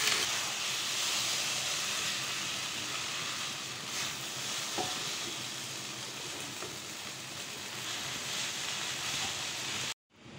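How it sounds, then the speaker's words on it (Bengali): Prawn noodles mixed with mayonnaise cook in a pan with a continuous, even hiss and sizzle. A few faint utensil scrapes cut through near the middle, and the sizzle stops abruptly at the end. "সবগুলো আমি ভালোভাবে এখন এভাবে আরও 5 মিনিট রান্না করব"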